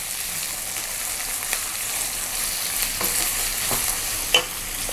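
Onions sautéing in a pan for poori masala, a steady close sizzle with occasional stirring scrapes and clinks, no voices.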